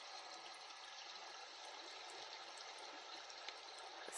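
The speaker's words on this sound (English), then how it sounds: "The water is running. The snow is melting." Meltwater from thawing snow runs in a steady, faint broadband rush, with a few soft drips and splashes on top and no voices.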